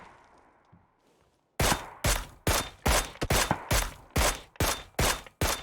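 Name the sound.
gunfire in the video game PUBG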